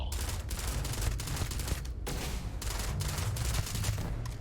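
A video game plays continuous rapid gunfire, a dense rattling fusillade that stays loud and steady throughout, with no clear talking.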